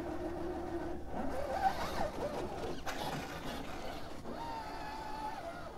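An Axial SCX-6 RC crawler creeps slowly over rough terrain on its first drive, giving a steady close motor whine with crunching and scraping from the tires over rock and dirt, continuous throughout.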